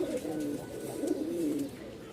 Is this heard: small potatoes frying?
no